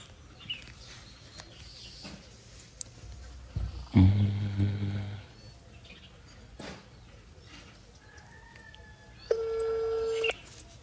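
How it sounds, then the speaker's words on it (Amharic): An outgoing phone call rings on the line, with one steady ring tone near the end after quieter background noise and a few faint clicks. "እየጠራ ነው።"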